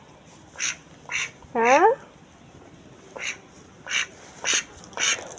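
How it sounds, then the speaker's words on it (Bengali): Native Bengali domestic ducks quack in a string of short, loud calls spread across the clip, one drawn-out descending honk in the middle, with a brief spoken word among them. "এই যে একদম দেশি হাঁস, পিওর হাঁস, খাঁটি হাঁস।"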